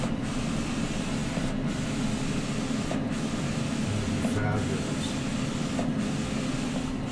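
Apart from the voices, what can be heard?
photo printer printing a large owl print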